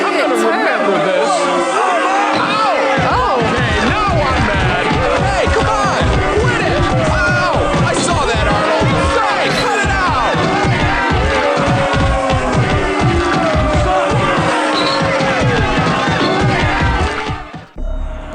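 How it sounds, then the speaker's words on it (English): Crowd booing a character in a Mortal Kombat 4 game ending, a loud dense mass of jeering voices and babble sustained for many seconds before cutting off abruptly. "That's it? He just gets booed?"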